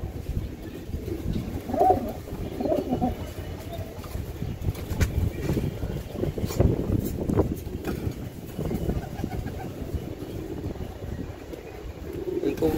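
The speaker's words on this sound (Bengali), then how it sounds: "তো এখানে দুটা লাইনের কবুতর আছে, ছাড়াছাড়ি লাইনের কবুতর।" A pair of Giribaj pigeons of the Charachari line, a male and a female, coo softly and repeatedly at close range, with faint wind and background rumble.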